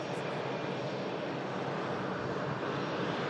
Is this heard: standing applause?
no